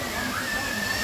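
A Goa waterfall gives a steady, moderately loud rush of falling water, continuous and even across the brief moment with no break.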